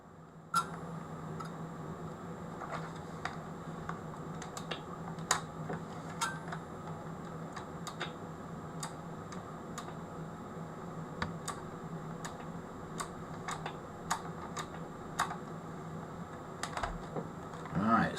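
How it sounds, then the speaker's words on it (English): A micro switch clicking as it is pressed, sharp dry clicks repeated at irregular intervals over a low steady hum, close and faint, with no talk. "I'm hearing, as I'm pressing that, which is moving this micro switch, I'm hearing a click."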